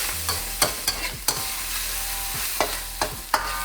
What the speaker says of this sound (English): sweet bean paste, about a good heavy teaspoonful, and we're going to mix it in until you can see it's gone through the whole thing